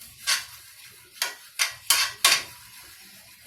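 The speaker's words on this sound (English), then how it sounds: "We're going to stir that up in there real good." A spoon strikes and scrapes a pot as a peanut butter and chocolate mixture is stirred, five distinct clanks spaced about half a second apart, close by with quiet gaps between them.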